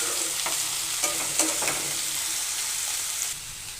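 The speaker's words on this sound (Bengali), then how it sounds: "ভালো করে নাড়াচাড়া করে নেব।" Vegetables including drumstick and raw green banana frying in a Bengali kadai, a close steady sizzle broken by several scraping stirs of a spatula, with no talk.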